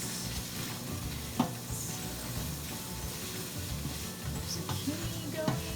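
Zucchini sizzling in a hot pan for bacon chowder, a steady close frying hiss with occasional scrapes and clinks of stirring.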